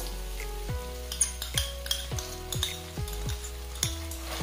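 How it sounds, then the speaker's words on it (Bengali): Tomato sauce spooned into a hot pan of softened tomatoes for bread upma, with steady sizzling under repeated spoon clinks and scrapes against the metal. "এখন দিয়ে দিচ্ছি 1 টেবিল চামচ টমেটো সস।"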